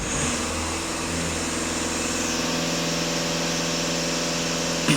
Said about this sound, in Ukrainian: Зараз даю газ в пол, фіксую просто дані на обертах